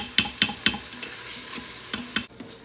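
Peas and a tablespoon of butter stirred in a pot on saute mode for shrimp fried rice: a series of sharp utensil scrapes and taps over a light sizzle, bunched early then spaced out, with no voice.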